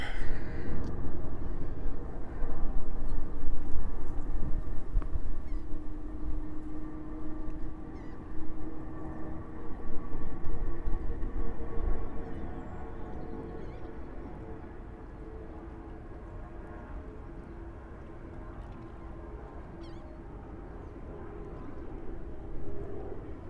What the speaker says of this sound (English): Okay, we have another takeoff.